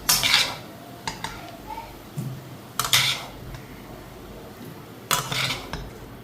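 Fried pieces are scooped from a hot pan into a bowl with a metal utensil: a few separate bursts of scraping and clinking against cookware, close by, with quiet gaps between them.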